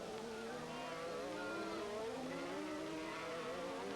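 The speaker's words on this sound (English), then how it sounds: "The number 15 car, driven by Alain Prost in the Renault." Alain Prost drives a 1983 Renault Formula One race car at Monte Carlo, its high engine whine rising and shifting in pitch continuously for four seconds, heard at a moderate distance over broadband track noise.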